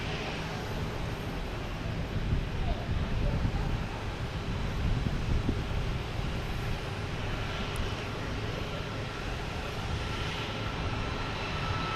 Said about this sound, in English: It's getting a little windier out here.